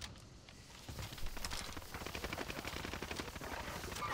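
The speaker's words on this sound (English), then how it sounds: "I'm over here shooting, or trying to shoot at least." M1928 submachine gun fire in a first-person shooter, a fast rattling burst of rapid shots that starts after a quiet moment and keeps a steady, moderately loud rhythm.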